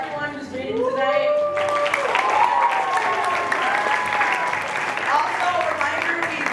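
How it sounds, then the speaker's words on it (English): Applause from an audience at a poetry night, a dense burst of clapping that rises sharply and carries on steadily to the end, with a voice speaking just before it starts and faintly beneath it. "can we all just give a huge round of applause to everyone who's reading tonight?"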